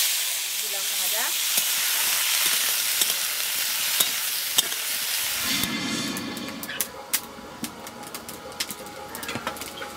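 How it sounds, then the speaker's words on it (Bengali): Green beans and yardlong beans frying in oil in a home kitchen, a steady hiss and sizzle throughout that swells louder about halfway, with stirring scrapes, pigeons cooing and birds calling in the background. "এবার ওই যে বিনস বরবটি তুলেছিলাম ওইগুলো ভাজা করবো।"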